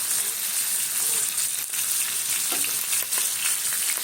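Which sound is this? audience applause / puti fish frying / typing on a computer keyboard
puti fish frying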